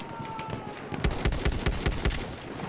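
A Chinese gun fired in Battlefield 1: a rapid string of about eight loud, sharp shots in quick rhythm, preceded by a brief lower background rumble and a faint tone.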